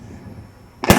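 Double-barrel shotgun fired with a blank wad during wildfowling, a single sharp loud blast at the very end after a quiet outdoor lead-in.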